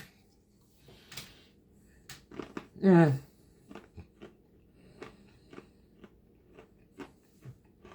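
A single loud crunching bite into 40-year-old gum stands out amid quieter scattered clicks and faint background voices, a brittle chew that cracks sharply once.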